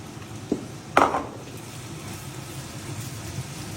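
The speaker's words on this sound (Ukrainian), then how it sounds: "І зараз я піджарю до нього морпочки, цибульку." Carrots and onions fry in a pan with a low steady sizzle, with two quick utensil clinks against the pan near the start, close and without talk.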